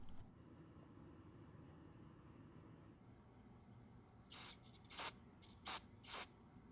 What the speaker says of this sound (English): I'll spray some carb cleaner through it.